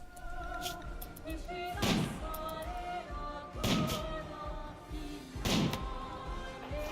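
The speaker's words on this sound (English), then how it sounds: "Let's try to shoot at an iguana." Sniper rifle shots fired at an iguana in the RimWorld video game, three sharp thudding reports spaced about two seconds apart over a low game background.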